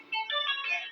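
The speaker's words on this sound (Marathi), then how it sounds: "आईचा फोन आला" A phone ringtone plays as a short electronic melody of bright tonal notes, fairly quiet and heard on its own indoors.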